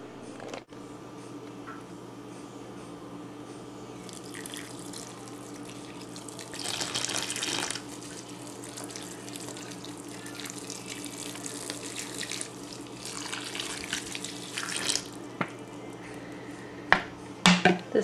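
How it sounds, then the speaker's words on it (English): Tap water runs steadily into a container to soak dry, hard substrate for a crested or gargoyle gecko lay box, with a few louder splashing bursts and some handling clatter near the end. "we need to add more water to that and let it soak a bit more."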